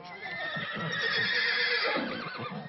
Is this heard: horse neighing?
yes